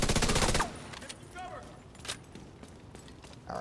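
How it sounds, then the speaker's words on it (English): A FAMAS rifle in Division 2 rattles off a short, loud, fast automatic burst at the very start, then gives way to quieter scattered game sounds and a few distant thuds. "You can see how this FAMAS is just a laser."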